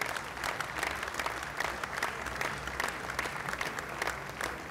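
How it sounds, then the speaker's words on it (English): Audience applause at a bankers' dinner, a dense, sustained round of clapping from a large room that holds steady throughout. "Thank you very much for that round of applause."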